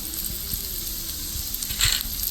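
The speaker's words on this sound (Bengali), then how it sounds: "রসুন কুচি নিয়েছি রসুন কুচিটা দিয়ে দেবো" Chopped garlic sizzles steadily in a hot pan for chow mein, a continuous close frying hiss with faint stirring clicks underneath.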